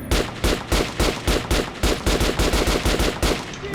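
Rapid bursts of video game gunfire at a shooting range with training dummies, a steady run of about a dozen loud, evenly spaced shots repeating close up with no talk.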